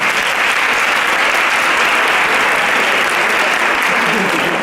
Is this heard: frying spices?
no